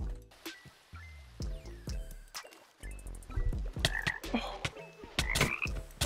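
Frog croaking in the video game RLCraft, repeated throaty croaks over game music and sound effects, fairly loud and up close.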